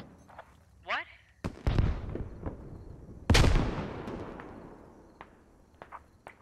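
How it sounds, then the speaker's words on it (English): Grenades burst nearby in the military shooter game Squad, two loud blasts a couple of seconds apart with long decaying rumbles, amid scattered gunfire and a voice. "I'm taking accurate grenades on me"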